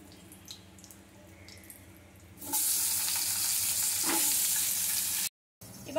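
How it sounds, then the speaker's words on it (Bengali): Potatoes dropped into hot oil for a Bengali chital fish curry, with a loud, steady frying sizzle that starts abruptly partway through and continues close up, broken only by a brief gap near the end. "এবারে এই তেলের মধ্যে আমি ভেজে নেব আলু"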